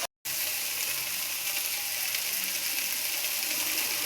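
Red amaranth greens sizzle steadily in a hot pan while being stirred, a dense, even frying hiss that continues unbroken after a brief silent gap at the start, with no talk.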